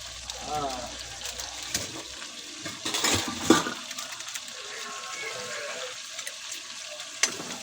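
Water splashes and pours into a metal pan with clinks of cookware, close by, with brief speech around it.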